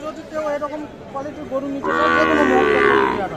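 A Sahiwal cow lets out a long, loud moo close by at a cattle sale, following a few seconds of people talking nearby.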